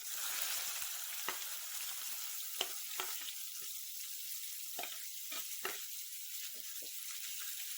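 Chopped onions sizzle in hot oil with cinnamon, dried red chillies and cloves for an egg curry, a constant close frying hiss broken by occasional clicks and scrapes of stirring.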